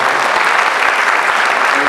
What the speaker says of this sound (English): I would like to give her a big applause.